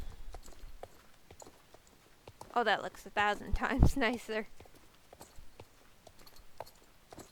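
A North Swedish horse trotting in the game Star Stable, steady rhythmic clip-clop hoofbeats throughout, with a person talking over the middle portion.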